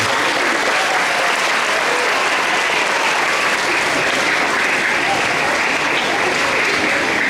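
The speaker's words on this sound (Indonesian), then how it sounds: "Tepuk tangan untuk anak-anak." Children at a school thanksgiving Mass in Jakarta break into sustained, dense applause that holds steady and loud throughout, filling the space without a pause.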